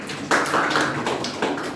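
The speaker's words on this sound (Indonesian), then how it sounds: "Tepuk tangan dulu untuk kelompok 4." Applause from an audience for group 4 at a school presentation session, a short burst of clapping that starts abruptly and carries on briefly at close range.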